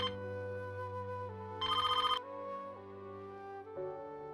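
Telephone ringback tone for an outgoing call, heard alone: a steady, clear electronic tone pattern with shifting pitches and a brighter burst in the middle, no voices.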